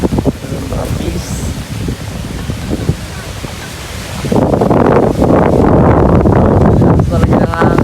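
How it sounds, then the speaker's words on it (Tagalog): Wind blows across an open rice field outdoors, a steady rushing rumble that swells much louder halfway through and batters the microphone, with no speech. "Sarap ng hangin."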